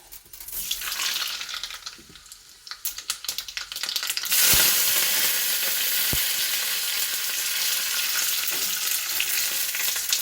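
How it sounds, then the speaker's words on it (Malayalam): Mustard seeds dropped into hot oil while cooking beetroot kichadi: scattered rattling and clatter of stirring, then a loud, close, continuous crackling sizzle with a couple of sharp pops. "എണ്ണ ചൂടായി വന്നിട്ട് നമുക്ക് കുറച്ച് കടുക് ഇട്ട് കൊടുക്കാം"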